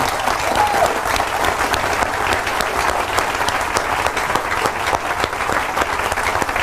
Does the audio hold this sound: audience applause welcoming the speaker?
yes